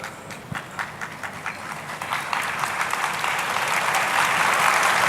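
An audience claps in a hall. It begins as scattered claps and swells into loud, continuous applause from many hands.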